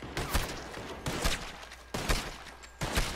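Gunfire in the video game Red Dead Redemption 2, with four loud, close bursts of shots spaced about a second apart, each followed by a short decaying tail.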